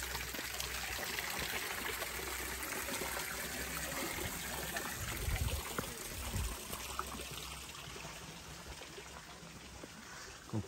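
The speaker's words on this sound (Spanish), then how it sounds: "Están otras cascadas." Waterfalls cascade at the Pilón los Naranjos site in El Salvador, a steady, dense rushing roar that fills the whole stretch with faint low thumps partway through and no talking.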